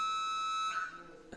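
A 30-second timer at a weightlifting championship sounds a steady electronic buzzer tone that cuts off partway through, followed by a quiet room and a short thud.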